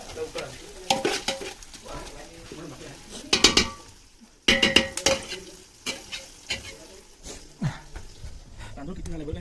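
Onions being stirred and turned in a pot while cooking biryani, with a spoon scraping and knocking against the metal over a light sizzle, and scattered clanks as people talk nearby.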